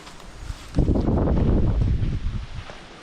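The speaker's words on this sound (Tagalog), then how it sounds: "Sana'y tumigil na ang hangin." Gusting wind roaring across a field being cleared for papaya planting, rising suddenly into a loud, close buffeting rush against the microphone that holds for a couple of seconds, then eases.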